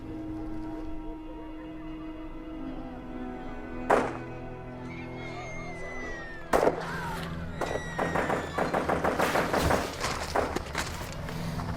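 Sharp gunshots crack in the distance in Afghanistan, a couple of isolated reports followed by a rapid burst of many shots, some 30 to 50 in all.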